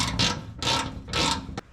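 A ratchet works loose 10mm bolts holding a condenser to the bed of a Suzuki Carry mini truck, giving three quick rasping clicking bursts in an even rhythm, close and clear, ending with a short sharp tick.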